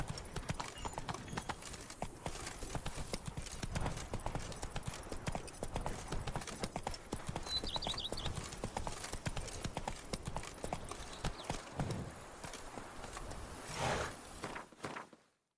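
Horse hooves clip-clop steadily in The Witcher 3, a continuous trotting rhythm with riding ambience and a brief whinny-like call, fading out at the end.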